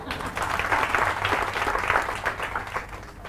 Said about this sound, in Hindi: तो इनके लिए तालियां बजाओ एक बार।